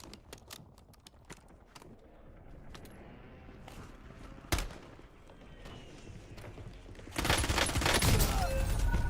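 Gunfire in the video game Call of Duty: Warzone: scattered sharp shots crack throughout, one loud blast near the middle, then a dense, continuous burst of rapid fire for the final couple of seconds.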